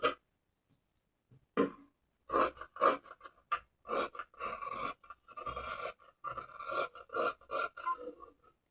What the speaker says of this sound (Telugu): ఇప్పుడు మనం ఏ విధంగా మార్క్ చేసుకున్నామో అదే విధంగా ఫ్రంట్ పార్ట్ అనేది కట్ చేసుకోవాలి